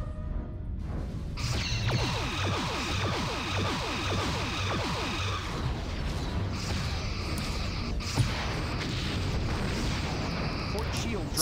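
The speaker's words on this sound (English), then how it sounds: "Fire 8 photon torpedoes." Photon torpedo explosions in a Star Trek starship battle video game burst in a dense, continuous barrage of booms and crackling blasts, with a player talking over the action.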